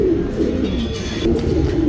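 A male HMT Rekdhar pigeon coos close and loud, its low rolling coos repeating in an unbroken run over a steady background hum.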